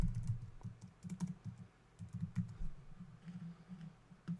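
Someone types a symbol name on a computer keyboard in Flash CS6, the soft keystrokes coming in quiet, uneven clusters over a steady low hum.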